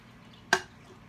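Leftover beer drips from an empty beer can: a single short, sharp drop stands out clearly against quiet background.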